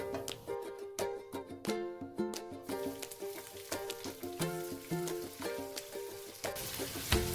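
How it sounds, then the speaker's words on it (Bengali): Chopped onions dropped into hot oil with garam masala set up a steady sizzle, crackling close by with occasional stirring clinks over a background tonal hum. "এবার এতে কুচনো পেঁয়াজগুলো দিয়ে দেবো।"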